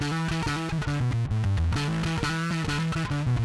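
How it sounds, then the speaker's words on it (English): A bass guitar driven through an extreme overdrive pedal plays a thick, saturated line of sustained notes that shift pitch, loud and steady with no talk over it. "This is overdrive."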